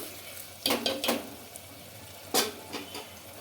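Thick chicken masala paste, its oil risen to the surface, is stirred in a clay pot with a few scraping strokes, a soft sizzle running beneath the bursts.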